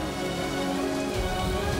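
Heavy rain pours steadily in a continuous, loud, even hiss of drops on surfaces, with no voices over it.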